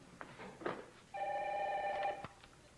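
A telephone bell rings once in a single long burst, fairly close in a quiet room, preceded by faint movement sounds and followed by a short click.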